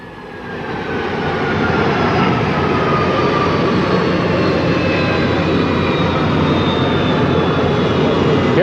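A presidential Boeing 707 sits on a San Diego airfield in 1963, its jet engines giving a loud, steady roar that swells in the first second and then holds an even whine throughout.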